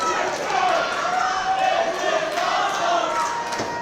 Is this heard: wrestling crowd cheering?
yes